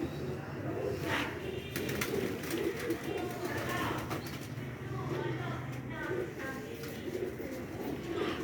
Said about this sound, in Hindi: बड़ा कबूतर है फिरोजपुरी, फिरोजपुरी ही साथ मादी लगी हुई है।